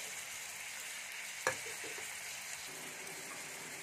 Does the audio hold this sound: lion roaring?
no